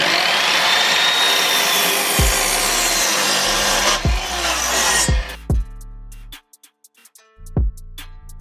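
A hand saw works through wood during a homemade wooden squat rack build, giving steady rasping strokes at close range, then a few sharp knocks and clatters as the cut finishes, with no talking.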